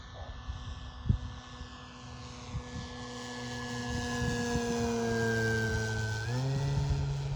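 A Hangar 9 Cessna 182 model airplane with a 95-inch wingspan whines past at half throttle, its engine pitch sliding steadily downward and then dropping sharply as it passes, with faint thumps underneath.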